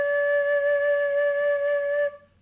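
A woodwind flute sounds one steady, clear held tone made by blowing across its hole, close and fairly loud, stopping abruptly near the end.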